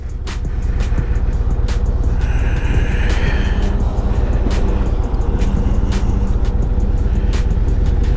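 A 2024 Harley-Davidson Road Glide motorcycle pulls out and cruises on the road behind semi trucks, its engine a loud continuous low rumble mixed with heavy road and wind noise.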